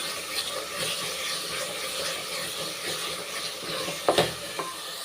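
Masala with yogurt being sautéed in oil for mushroom biryani, a continuous soft sizzle with light stirring scrapes and a few sharper clicks near the end.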